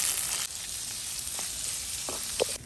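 Onions and curry leaves frying in hot oil, a continuous close sizzle with a few soft stirring clinks and scrapes.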